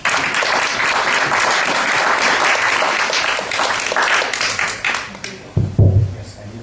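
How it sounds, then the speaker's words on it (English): Warm audience applause at a talk event at House of Blues and Jazz in Shanghai, steady dense clapping for about five seconds before thinning out and fading, with a few louder close claps near the end. "So please give a warm applause to Mario."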